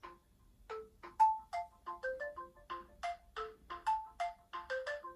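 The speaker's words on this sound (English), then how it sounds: "another thing in the sound menu that you might want to do is change your ringtone" A phone's default ringtone plays from the device's sound settings menu, a bright electronic melody of short, rapid tonal notes in a steady repeating pattern, clear and close with no talking.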